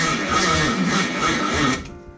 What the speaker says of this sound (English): The battery's weak, but it will turn over a little bit.